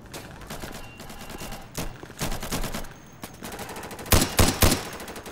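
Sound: gunfire in the video game Insurgency

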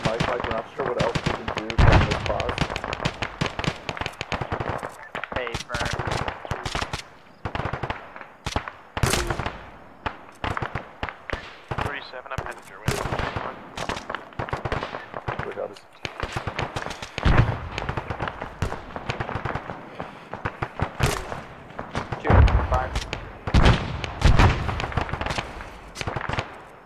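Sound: gunfire in the video game ArmA 3

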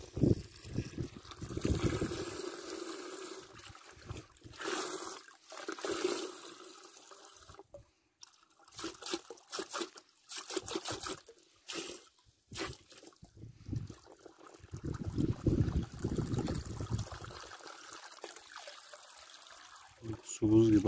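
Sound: water flowing while watering apricot saplings

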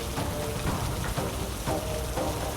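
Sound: heavy pouring rain in a horror radio drama

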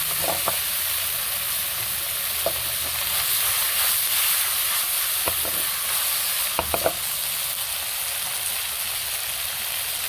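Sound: stir-frying matsutake mushrooms in a pan

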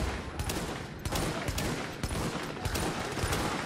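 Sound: sniper rifle gunfire in video game The Division

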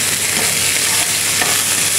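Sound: root vegetables frying in a pan, stirred with tongs

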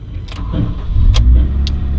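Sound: Honda Integra Type R DC5 K20A engine starting

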